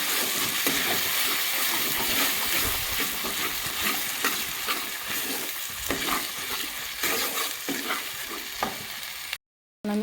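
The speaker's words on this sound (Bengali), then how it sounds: "এই মশলাটার সাথে আমি সুন্দর করে কষিয়ে নেবো" Cumin and coriander powder masala fries in a pan for a mixed vegetable curry, a constant close sizzle broken by scraping stirring strokes, ending with a short drop to silence.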